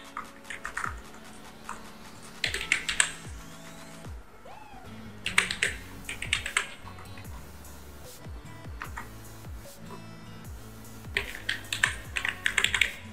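Typing on a computer keyboard while entering text in Photoshop: bursts of quick, clattering keystrokes separated by short pauses, close and fairly clear with no talking over them.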